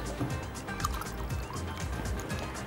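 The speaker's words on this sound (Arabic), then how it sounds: "هحط عليها عصير الليمون" Lemon juice poured into broth for a stuffed vine leaf dish, a soft close liquid trickle and drip running steadily over a faint room background.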